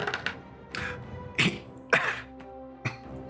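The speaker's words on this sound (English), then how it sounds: "I was so surprised that I just coughed" One person coughs and clears their throat nearby in a quiet indoor room, four or five separate short rough bursts with brief pauses between them.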